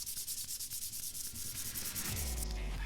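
Close, rhythmic back-and-forth sanding strokes rasp across a plastic Porsche 911 (996.2) headlight lens, then settle into a deeper, continuous grinding rumble.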